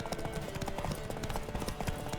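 Horse hooves galloping in The Witcher 3, a rapid, continuous clip-clop of hoofbeats close and loud, with faint voices mixed in the background.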